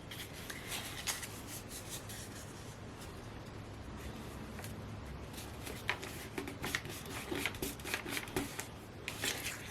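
Sheets of music paper are handled for a collage, producing close, soft rustling and rubbing with brief crinkles that grow busier toward the end.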